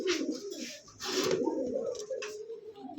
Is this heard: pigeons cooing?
yes